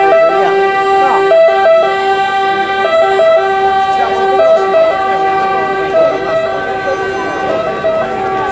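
An ambulance siren wails loudly and steadily throughout, with stepped two-tone pitches repeating under a busy outdoor din of traffic and voices during a tsunami-preparedness event.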